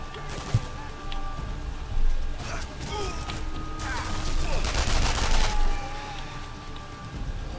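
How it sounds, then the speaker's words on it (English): Gunfire in the Sniper Elite 3 video game, volleys of rapid shots crackling in bursts from several directions, loud and close, with dense rattling stretches over a continuous background rumble. "I'm getting shot from all sides."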